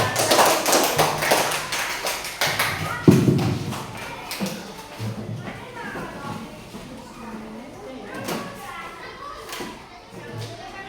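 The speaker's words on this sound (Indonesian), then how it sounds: "Silakan kelompok 3 beri tepuk tangan." A classroom of students claps for a group, a dense burst of rapid hand claps that fades into scattered taps while children chatter and a thud stands out.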